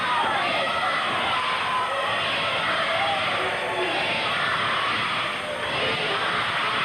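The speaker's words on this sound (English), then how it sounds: "Not our largest crowd, but certainly one of the noisiest" Noisy wrestling arena crowd at a 1982 Portland Wrestling TV show cheering and shouting in a steady, dense roar that fills the whole stretch, with voices mixed into the din.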